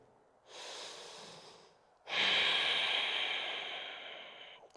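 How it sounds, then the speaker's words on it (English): Two deep breaths during a yoga fold, a shorter hissing inhale then a longer, louder exhale through the nose, close to the microphone with quiet between. "Breathing here."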